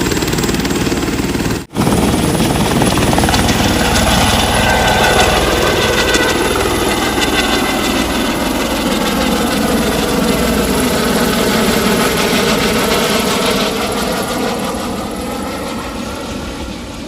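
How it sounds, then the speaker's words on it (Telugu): A helicopter on a passenger ride roars loudly and continuously from close range, a heavy engine drone with rhythmic rotor chopping throughout. "ఈ హెలికాప్టర్ రైడ్ అరేంజ్ చేసింది వీళ్ళే విహాంగ్"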